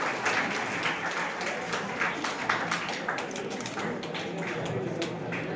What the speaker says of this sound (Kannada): ಜೋರ ಚಪ್ಪಾಳೆ ಮೂಲಕ